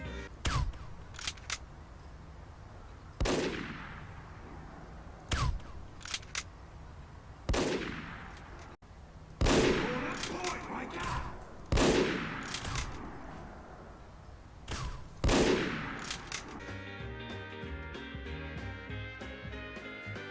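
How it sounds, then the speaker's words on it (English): Hitman's Heatmaker sniper rifle shots in Team Fortress 2, about seven or eight sharp single cracks spaced a few seconds apart, each with a short decaying tail, followed by a low mechanical clatter at the end. "The sound a shot makes is significantly reduced if compared to the stock rifle"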